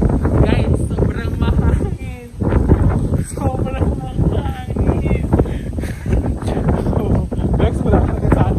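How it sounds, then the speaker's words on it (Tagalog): Strong wind blows straight into the microphone, causing a constant heavy buffeting rumble that runs under people talking throughout. "Sobrang mahangin."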